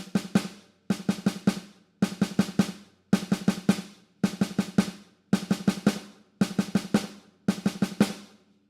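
Single stroke four rudiment played on a snare drum, heard alone as eight evenly spaced bursts of four quick sharp strokes, each group followed by a short gap, loud and close.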